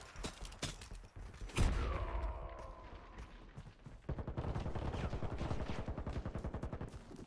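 Gunfire rattles in Warface as a magazine is emptied: a heavy shot or blast, then a long rapid automatic burst of evenly spaced cracks, loud and close in the second half.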